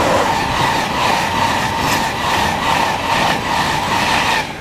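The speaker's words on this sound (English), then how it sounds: "Now passing through is a Class 91 Virgin Trains East Coast service." A Class 91 Virgin Trains East Coast train passes close by with a loud, continuous rushing roar and faint rhythmic wheel clatter that holds steady throughout.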